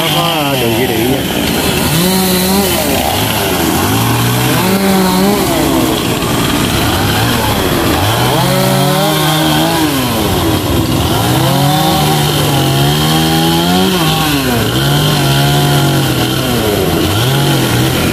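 A chainsaw cuts two conifers near overhead power lines, its engine loud and close, rising and falling in repeated revs through the cut, with brief voices in the background.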